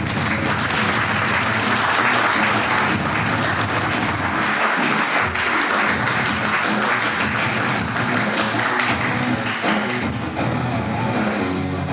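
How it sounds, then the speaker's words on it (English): Loud, continuous applause from a live conference audience at SWC 2024 greeting a first-time speaker, dense and even across the whole stretch with no talk over it. "I ask you to support him with applause, because it's the first time he's speaking in English from the stage"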